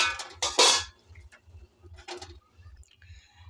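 A metal pot of cooked dal is lifted off a gas stove. A loud clatter of metal comes early and up close, followed by softer clinks over a low, steady, pulsing hum. Nobody speaks.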